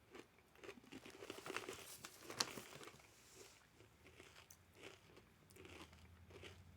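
Crisp crunching bites into a neon-colored, sriracha-scented spicy snack, with bursts of loud crackle early on followed by quieter chewing and crinkling, close up and without talk.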